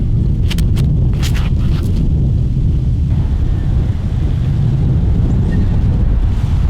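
Steady wind gusting across an outdoor disc golf course during a Halloween Open tournament round, a continuous low rumble buffeting the microphone throughout, with brief faint higher noises early on.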